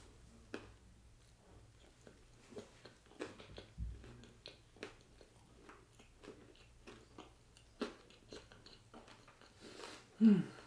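Close, quiet chewing and biting on a Butterfinger chocolate donut, with soft crunches and mouth sounds in an irregular rhythm throughout and one louder bite near the end.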